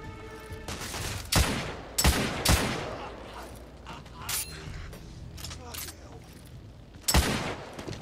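Rifle gunfire in the video game The Order 1886: several sharp, loud shots at irregular intervals amid mechanical clanks and creaks, with battle noise continuing between them.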